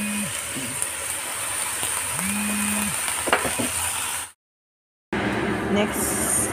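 Chicken broth pours into a hot pan of sizzling Korean rice cakes with kimchi and cabbage, a steady loud frying hiss with tonal beeps over it, cutting briefly to silence before sizzling resumes.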